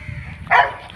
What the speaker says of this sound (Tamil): அந்த மாதிரி தான் நாய்ங்கெல்லாம் குலைக்க ஆரம்பிச்சிருச்சு